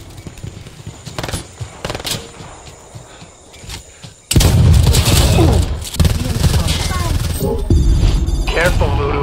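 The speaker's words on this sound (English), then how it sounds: "Just shoot the lock off." Gunfire in a military shooter video game as a lock is shot off, sharp bursts of shots followed by a loud sustained blast and rumbling debris, with voices talking.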